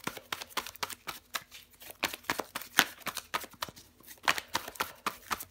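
Tarot cards are shuffled and drawn by hand in a quiet room, a rapid run of crisp, close riffling snaps and flicks repeating in uneven bursts with no voice over them.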